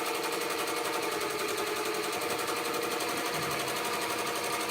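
Sewing machine stitching overlapped fabric, a continuous fast rhythmic whir and needle clatter running steadily throughout, close and loud.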